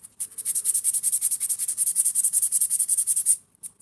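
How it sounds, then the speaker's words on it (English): Wet sanding a rusty toy handcuff: close, steady back-and-forth rasping strokes in a fast even rhythm for about three seconds, then stopping abruptly, with no talk. "I'm just gonna wet sand this and then I'll dry it off."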